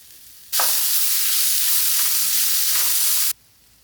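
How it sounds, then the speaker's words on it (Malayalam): Chili powder and turmeric sautéed in a pan, a loud, close burst of hissing sizzle lasting about three seconds, starting and stopping abruptly, with no voices. "ഇനി അതിലേക്ക് മുളക് പൊടി, മഞ്ഞപ്പൊടി അത് ഇട്ടിട്ട് നല്ലപോലെ വഴറ്റിയെടുക്കാം."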